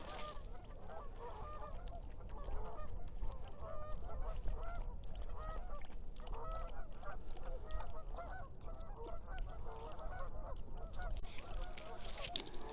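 A flock of geese honks continuously at moderate distance by a lake at Lake Anita State Park, overlapping calls over a soft outdoor background.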